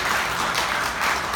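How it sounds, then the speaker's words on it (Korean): A church congregation applauding during a Sunday service, a dense, steady wash of many hands clapping at once that fills the room evenly from start to finish. "응원과 격려의 박수 한번 부탁드립니다."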